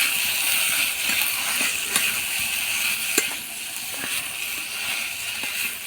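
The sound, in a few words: spiced jackfruit mash frying in a pan on low heat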